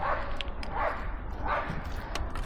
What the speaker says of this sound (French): il braille le chien là-bas